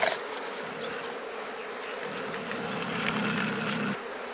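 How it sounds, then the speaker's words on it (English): A large swarm of honeybees clustering over their queen in a desert setting gives a steady, dense buzzing drone that holds throughout, fairly close and swelling slightly toward the end. "a large swarm of honeybees clustering over their queen, en route to making a new hive"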